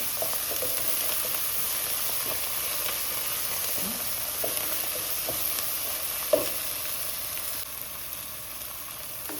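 Chopped tomato sautés in a pan with a steady, close sizzle that holds throughout, with occasional soft scrapes of stirring and no voices.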